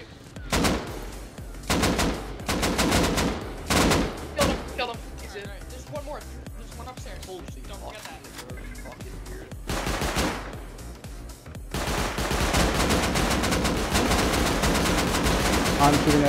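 Automatic AK rifle fire during a base raid in the modded survival game Rust, coming in long loud bursts and rapid volleys, with players talking excitedly over the shooting throughout.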